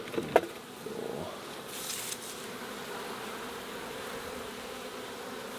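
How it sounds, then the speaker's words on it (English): Honey bees buzz over a heavy hive frame full of brood during summer beekeeping, a dense, steady hum close by, broken by a brief knock at the start. "Frame full of bees which will be born soon"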